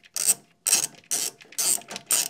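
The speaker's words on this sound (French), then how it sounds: "Donc celle-ci, tu l'enlèves avec une clé de 13." A 13 mm ratchet wrench backs out the bolt joining the steering rack to the steering column on a Renault Super 5, five quick bursts of close, crisp clicking separated by short pauses.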